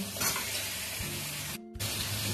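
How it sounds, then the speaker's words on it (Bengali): Fried potatoes go into a sizzling mutton curry with coriander powder, a steady loud frying hiss with stirring scrapes and one brief dropout. "ভেজে রাখা আলু দিয়ে দিচ্ছি।"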